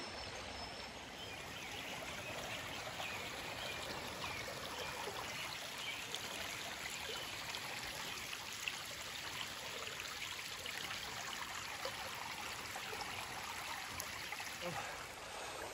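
A little creek flows through a wooded cattle paddock, a soft, steady trickling wash, faint and continuous with no breaks.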